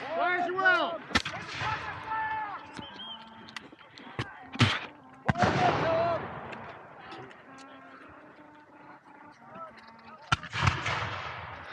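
Revolutionary War reenactors fire muskets outdoors, a few sharp loud reports scattered across the scene with shouted voices and commands between the shots.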